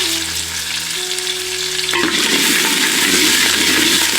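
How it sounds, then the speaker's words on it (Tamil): Small shallots, dried red chillies and curry leaves sauté in hot oil for kalyana sambar, with a steady close sizzle and frying crackle that grows denser partway through as ingredients are stirred in. "அடுத்து 5 வரமிளகாய், தட்டி எடுத்துக்கிட்ட சின்ன வெங்காயம், கூடவே கொஞ்சம் கறிவேப்பிலையை சேர்த்து வெங்காயத்தை நல்லா வதக்கிடுவோம்"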